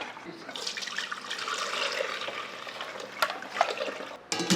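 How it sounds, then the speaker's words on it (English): Rice crepe batter for tapioca bánh cuốn poured through a strainer, a steady wet splashing trickle running for several seconds with a few louder splashes and clinks near the end, close and alone. "we can put through the strainer like that to make sure they're good"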